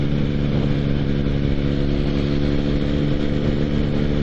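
A motorcycle engine hums steadily in top gear at about 50 mph on a country road, holding just under 3,000 rpm with an even low drone mixed with wind rush and no change in pitch.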